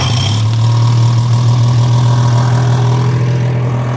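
Small engine running at a steady high idle of roughly 1200 to 1400 RPM, a loud continuous low hum with a strong steady tone, close by with no talk; the moment of starting is not distinct, so the sound is mainly idling.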